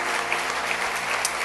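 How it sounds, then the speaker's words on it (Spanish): Applause from a church gathering of pastors, a short, even burst of many hands clapping together at moderate loudness. "Démosle un aplauso al Rey bendito."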